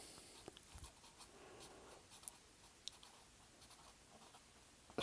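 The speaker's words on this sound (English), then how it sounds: "Let me write that down." A pen or pencil scratches quietly as a Bible verse is written down, with soft irregular strokes and small taps close by.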